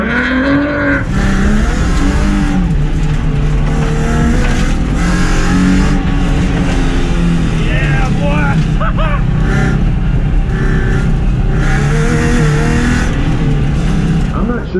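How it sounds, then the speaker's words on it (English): A loud car engine revs hard while driving sideways in first gear, a continuous strained roar with shifting pitch and rising whines throughout, close and dominant. "I'm not sure if that car is that loud or if he's in first gear, but it sure sounds like it's strung out."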